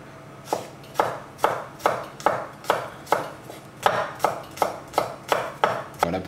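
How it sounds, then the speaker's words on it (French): A knife chops spring onion on a cutting board in a steady series of about twelve crisp, evenly spaced knocks, close and clear with no talking. "on vient terminer donc avec la ciboule. On va se débarrasser de l'extrémité."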